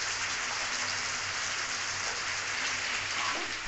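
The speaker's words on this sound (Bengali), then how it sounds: "তো পেঁয়াজ আর আলুটা ভেজে নিচ্ছি" Onion and potato sizzle in hot oil in a pan, a steady, dense crackling hiss that stays loud and even throughout, with no talking.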